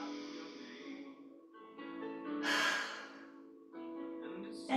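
A person breathes audibly during a yoga practice, drawing a few slow inhales in through the nose and releasing them as soft, breathy sighs, close and fairly quiet with faint voiced tone.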